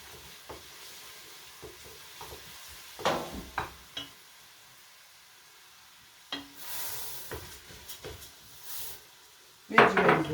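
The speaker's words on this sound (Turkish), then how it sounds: "Salçayı da kavuruyorum soğanla beraber." Tomato paste and onion are sautéed together in a pot for a lentil dish, with a soft sizzle under intermittent scrapes and clinks of a spoon against the pot; a few louder stirs come near the end and no one speaks.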